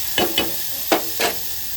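Tomatoes being lightly fried in a pan, four distinct bursts of stirring and sizzling scrapes spaced unevenly, close and fairly loud over a faint background hiss.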